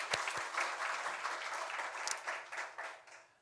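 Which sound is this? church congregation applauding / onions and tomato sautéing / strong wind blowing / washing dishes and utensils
church congregation applauding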